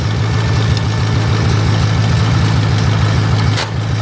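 A Farmall tractor engine idles in neutral after a choke start, a loud, steady low throbbing rumble up close, running alone without voices.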